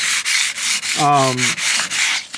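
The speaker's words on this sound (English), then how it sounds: "I'm gonna fold it in half and basically just start sanding it." Steady rasping strokes of folded 220 grit sandpaper rubbing against a wooden hatchet handle, repeated in a quick back-and-forth rhythm, close and loud with no talking.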